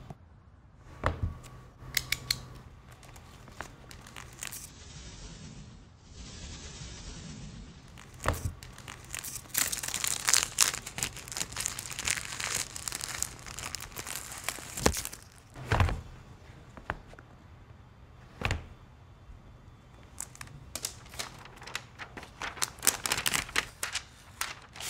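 Packaging of a Xiaomi Book S 12.4-inch 2-in-1 laptop being unboxed: close crinkling, tearing and sliding of cardboard and plastic in scattered sharp bursts with quieter handling between, no talk.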